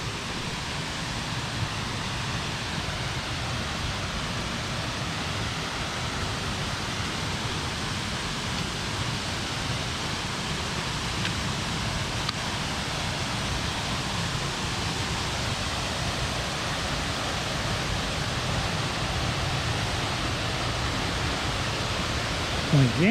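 Foster Falls waterfall in South Cumberland State Park pours in a steady, dense roar of broadband water noise, constant and unbroken for the whole stretch with no voices over it.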